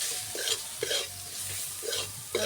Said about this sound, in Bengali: ভালো করে মশলাগুলোকে কষিয়ে নেব